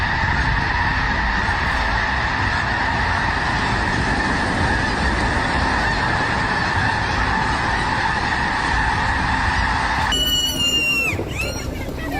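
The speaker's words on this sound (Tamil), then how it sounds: "லட்சக்கணக்கான வாத்துகள் வந்து பறக்குது பாருங்கள்" A large flock of ducks flies overhead calling constantly, a loud dense chorus of honking with a steady background rush, growing busier near the end.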